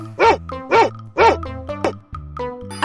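A dog barks in a 3D animal video game, three loud, close woofs in quick succession followed by yips and whimpering sounds, with no talk over them.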